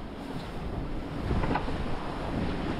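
Strong storm wind roaring steadily at sea aboard a boat, with buffeting gusts against the microphone and the wash of waves underneath.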